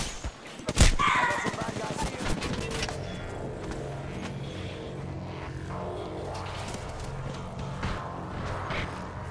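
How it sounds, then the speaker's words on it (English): Sustained gunfire in a video game fight, a loud burst of shots opening the stretch and then dense continuous firing and clatter running throughout, with faint voices under it. "Getting shot at."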